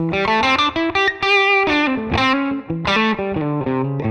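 An electric guitar plays through a Tonex MESA/Boogie amp model, loud and close, with a run of sustained, harmonically rich distorted notes and phrases and no talking.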